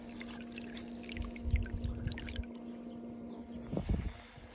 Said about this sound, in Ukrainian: І тут тепленька водичка собі тече.